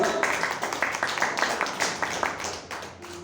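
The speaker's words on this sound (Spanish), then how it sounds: "Den un fuerte aplauso al Señor" A church congregation claps at moderate volume in a quick, fairly rhythmic pattern of overlapping hand claps, with a voice faintly audible.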